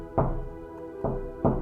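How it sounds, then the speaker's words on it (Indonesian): Knocking on a door: three separate knocks, the first at the start and the last two closer together, each a sharp, fairly close thump with a brief ring, and no talking. "Kemudian dia mengetuk pintu."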